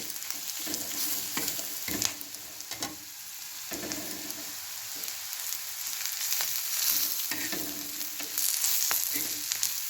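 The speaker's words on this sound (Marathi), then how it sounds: "आपण लसूण खोबरं आलं याची पेस्ट टाकतोय हे व्यवस्थित भाजून घ्यायचं" Garlic, coconut and ginger paste sizzles and fries in a pan, a steady close crackle broken by scraping stirs, with no talking.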